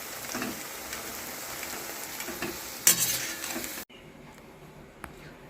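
Piyaji, onion fritters, fry in hot oil in a pan with a loud, steady sizzling crackle and a sharp spatter, then the sound drops abruptly to a much quieter, softer hiss.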